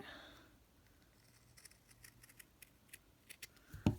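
Scissors snip wool thread while trimming a slow-stitch vintage scrap necklace, giving a scattered series of small, close, crisp cuts over quiet room tone.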